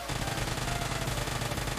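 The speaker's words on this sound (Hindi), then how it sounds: "उजी की गोलियां मैं सारी वेस्ट कर देता हूँ यार" Rapid UZI submachine gun fire in the mobile game PUBG Lite, a dense unbroken burst of rattling shots filling the whole moment, loud and without speech.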